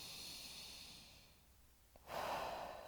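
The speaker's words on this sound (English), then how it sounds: "So I'm just going to take a nice deep breath into it." A slow, deep breath taken during a mat Pilates calf stretch, a soft hiss of air that swells into a louder, breathy exhale near the end over a quiet room.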